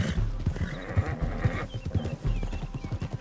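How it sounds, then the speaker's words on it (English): A horse in Red Dead Redemption 2 clip-clops with steady, rhythmic hoofbeats and gives a whinny, close and fairly loud throughout, with no talk over it. "Your horse makes those noises too?"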